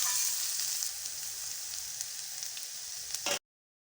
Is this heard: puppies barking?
no